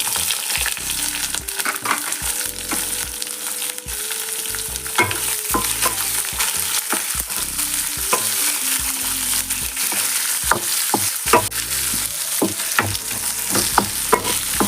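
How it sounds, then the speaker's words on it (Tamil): Chopped onion sautés with ginger and garlic for mint chutney, a constant loud sizzle layered with repeated scraping and clinking stirring strokes close by, and no speech. "வெங்காயம் நல்லா வதங்கணும்"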